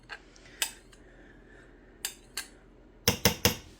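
Carrot seeds being scooped into cornstarch come through as a few sparse, light clicks and taps of a utensil against a dish, close and quiet, with gaps between them.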